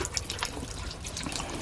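Water trickles and splashes softly at a Japanese shrine water basin, a faint continuous dribble with no talking.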